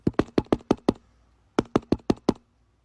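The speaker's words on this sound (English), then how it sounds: "this man got a girl knocking on his window" Someone knocks on a bedroom window at night with two quick bursts of about six sharp, evenly spaced raps, separated by a short pause, close and clear with no voices.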